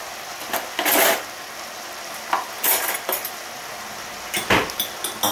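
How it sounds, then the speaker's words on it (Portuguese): Egg being beaten and mixed into a chicken and rice preparation, a fork or utensil clicking and scraping against a bowl in short irregular bursts, close and fairly quiet, with no talking. "vou bater um ovo e misturar esse ovo ali na preparação"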